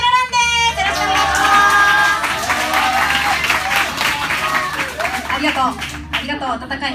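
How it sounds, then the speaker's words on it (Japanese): Warm audience applause after a student band introduction at a school concert, dense clapping from a crowd mixed with a speaker's voice talking over it, sustained for several seconds. "ありがとう、ありがとう、温かい拍手を。"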